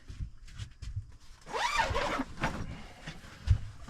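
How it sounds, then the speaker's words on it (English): A zipper on an Intech Explore camper is drawn open in one steady, raspy pull lasting about a second, with soft handling rustles and a light knock afterward in a quiet space. "Unzip this."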